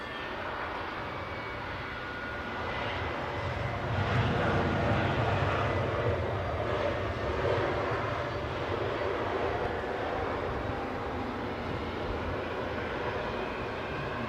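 Aircraft engines roar out at London Heathrow airport, a broad rushing noise that swells in the middle and then holds steady at a moderate distance, with no voices.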